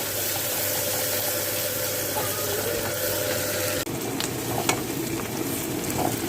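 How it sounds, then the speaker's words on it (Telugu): Onions and green chilies fry in a pan with a steady, close sizzle, and a sharp change partway through brings brighter crackling and a few light clinks. "ఇప్పుడు ఉల్లిపాయ పచ్చిమిరపకాయ కూడా వేసేసుకుందాము వేగాలి ఉల్లిపాయ దీన్ని"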